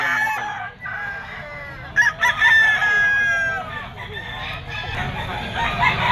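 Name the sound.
rooster crowing, game fowl stag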